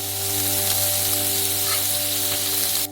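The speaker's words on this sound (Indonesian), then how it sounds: "Goreng bawangnya" Onions frying in olive oil in a pan, making a steady, dense sizzle that stays loud and even throughout, with a constant low hum beneath and no talking.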